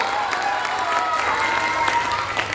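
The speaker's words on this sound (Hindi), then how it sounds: "ताली मत बजाओ भाई, छोड़ो।" Applause from a crowd at a Bihar political rally, steady and moderately loud for the whole stretch, with a faint amplified voice and tones running beneath it.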